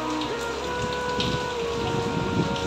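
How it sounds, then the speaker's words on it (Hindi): Heavy rain pours steadily, a dense continuous hiss of drops drumming on surfaces, close and loud with no pauses. "काफ़ी तेज़ बारिश हो रही है"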